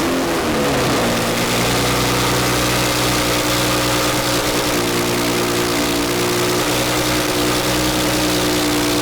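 A Mazda RX-8 rotary engine holds a loud, steady idle after a brief rise in revs at the start, humming continuously up close with a buzzy, slightly raspy edge and no talking.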